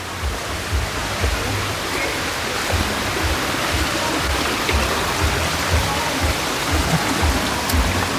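Spring water flowing out of the ground at Yakapark: a steady, dense rushing wash of water, close and constant with no breaks.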